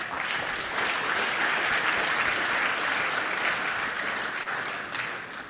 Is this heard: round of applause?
yes